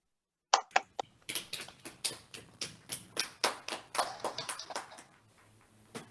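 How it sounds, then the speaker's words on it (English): Scattered hand claps at a small virtual piano recital, a handful of sharp individual claps followed by a steady run of fairly close, evenly spaced claps for several seconds, with no talk over them. "let's have a round of applause for Sean"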